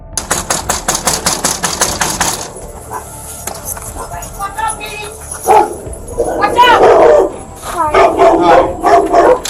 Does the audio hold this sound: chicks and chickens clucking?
no